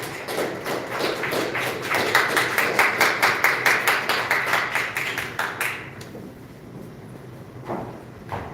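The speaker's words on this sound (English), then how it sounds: "Let's give him a round of applause." An audience at a startup conference event in Seoul applauds a speaker coming onto the stage, with loud, steady, rhythmic clapping that fades out after several seconds.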